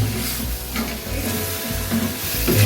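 Medium-large prawns with ground sweet masala sizzle loudly in a pan as a dense continuous fry close by, with a few low knocks and stirring sounds under it and no talk.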